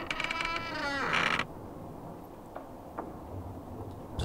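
A loud door creak in the horror game Project Nightmares, a drawn-out groaning squeal lasting about a second and a half, then a quiet hum with faint ticks.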